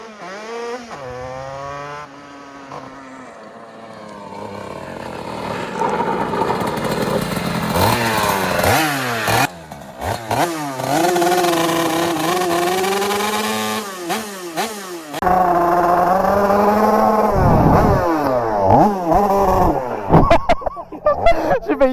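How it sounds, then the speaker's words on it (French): A 50cc motocross bike screams at full throttle, its small engine revving hard and repeatedly rising and falling in pitch, loud and close for a sustained stretch with brief drops between bursts. "Tito BKLF qui fait du cross."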